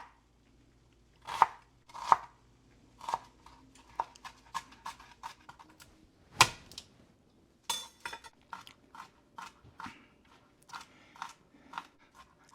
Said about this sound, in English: I'm fine chopping 1 onion.